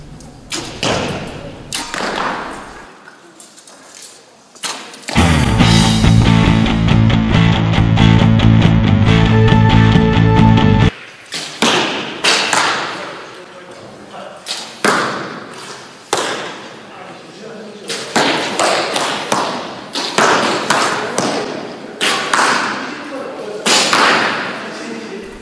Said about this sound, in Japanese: 矢が的に刺さる音。